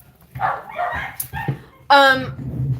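Dogs at home bark and yip during fireworks, a few short sharp barks in quick succession with one louder burst, close by and ending in quieter background noise.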